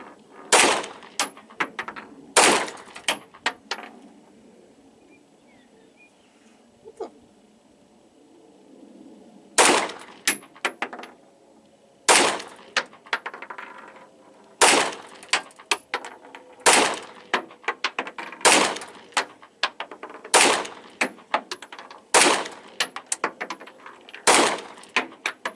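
Loud gunshots are fired at a car door outdoors, sharp cracks that come singly and in quick pairs, spaced a few seconds apart with quiet gaps between.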